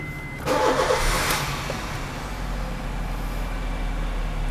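A 2013 Honda Jazz GE8 RS facelift cranks briefly and fires up, then settles into a steady low idle, close and clear with no talk.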